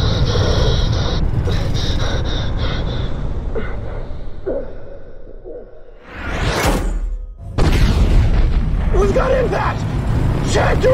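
Bombs falling and exploding in a jet combat flight game with F-14 Tomcats, a rushing whoosh and heavy blast after a loud engine-and-radio-chatter stretch, with voices talking over the cockpit noise.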